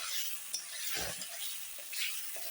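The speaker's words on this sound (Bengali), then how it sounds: "আর একটু কষানো হবে মশলাটা কাঁচা লঙ্কা দিয়েই করবো" Spice masala with green chillies is stir-fried in a pan, a soft continuous sizzle with scraping and clinks of the spatula stirring, close and fairly quiet, with no talking.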